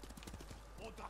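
Horse hooves clip-clop in Ghost of Tsushima, a rapid run of soft, evenly spaced beats at moderate distance under a low constant game ambience, with a voice talking over part of it.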